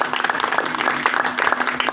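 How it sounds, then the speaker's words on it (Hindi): Audience applause at a Ramlila stage event, dense continuous clapping from a crowd, loud and close, lasting the whole two seconds. "एक बार जरा सा इनके लिए ताली बजाइए।"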